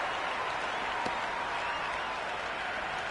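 A cricket crowd at a Big Bash League match applauds a boundary four, a dense, steady wash of clapping and cheering from a large stadium audience.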